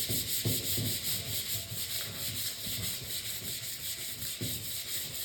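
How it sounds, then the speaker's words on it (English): Clear coat on a Harley-Davidson part being sanded by hand, a steady close rubbing and scratching in even back-and-forth strokes with no talk. "I'd rather sand it because there is a little bit of a rippliness to the clear."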